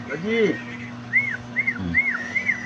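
A person whistles to call a pet bird, a series of short rising-and-falling notes, four or five evenly spaced chirps, close and clear over a low background hum.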